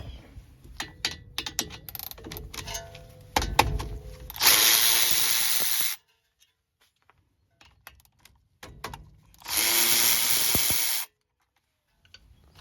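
Power tool removing 17 mm bolts during front CV axle replacement on a Honda Pilot: scattered clicks and clanks of handling, then two loud sustained bursts of the tool running, each lasting about one and a half seconds, separated by quiet.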